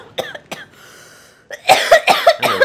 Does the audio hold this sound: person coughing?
yes